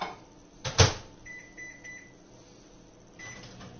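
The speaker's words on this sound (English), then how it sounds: "we need to melt that in the microwave" A microwave oven melting butter hums quietly after a door thud, with a few soft beeps as it starts running.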